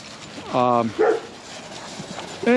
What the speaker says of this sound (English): the dogs are going after somebody